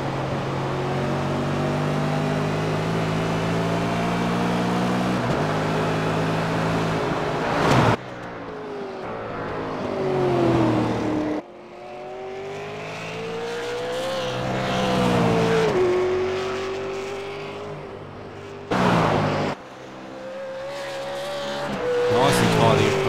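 A race car at Bathurst roars close with a rising and falling engine note as the rear slides loose, tires squealing through the corners with hard braking and gear changes, loud and continuous throughout.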